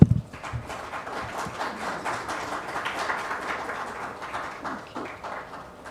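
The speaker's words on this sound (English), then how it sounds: "The claps were too meek" Audience applause after a keynote talk at an AI conference, a thin, steady patter of many hands at a distance, fairly subdued, continuing for several seconds.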